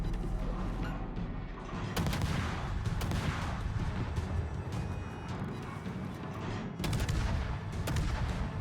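Naval gun salvos in a warship game featuring a Myoko cruiser and the Błyskawica destroyer, heavy booms and blasts layered over a constant low rumble, with louder clusters of shots near the start and toward the end.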